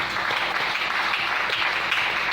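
A church congregation applauds and cheers the Lord during a sermon, a dense, continuous wash of many hands clapping at once, steady and fairly loud throughout.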